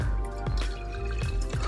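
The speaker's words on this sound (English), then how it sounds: "we're just going to fill the water reservoir here" Water poured into the water reservoir of a Beaba Babycook baby food maker, a continuous splashing trickle with gurgling and dripping, close and fairly quiet, without talk.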